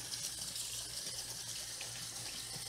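Tap water runs steadily into a sink over fresh green Hatch chili peppers as they are washed by hand, a continuous close hiss and splash with no talking.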